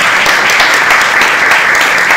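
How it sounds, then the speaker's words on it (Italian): An audience at a sports event in Parma applauds continuously, a dense, loud wash of clapping with no gaps throughout. "potete farmi anche un applauso, Lorenzo"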